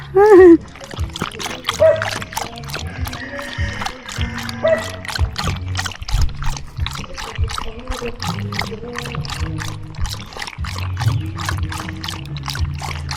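A very thirsty dog laps water quickly and close by on a farm in the Philippines, wet splashy licks in a fast steady rhythm, with brief bits of voice at the start.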